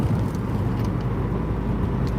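A car driving, heard as a steady low rumble of engine and road noise from inside, constant and unbroken throughout.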